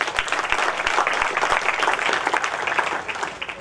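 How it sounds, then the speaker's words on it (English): An audience at a school inauguration ceremony breaks into a steady round of applause, many hands clapping together at moderate distance in a continuous dense patter that holds level before easing slightly at the end. "Let's give them a round of applause."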